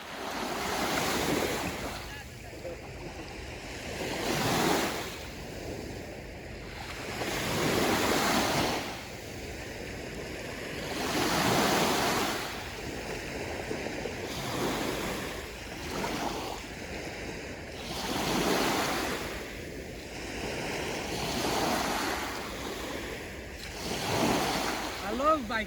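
Waves wash onto the shore of Lake Baikal in Siberia, each surge rising and falling in a slow, regular rhythm about every four to five seconds, with steady wind noise on the microphone and no voices.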